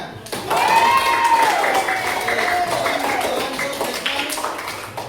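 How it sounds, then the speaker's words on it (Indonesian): Classroom applause for everyone, a burst of clapping starting after a short pause and continuing for several seconds while a clear voice speaks over it with a drawn-out melodic tone. "Sekarang kita beri tepuk tangan untuk semuanya."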